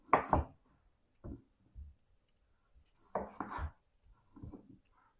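A knife chops down onto a cutting board a few times, cutting the ends off a zucchini, with short crisp cuts separated by pauses, close and clear.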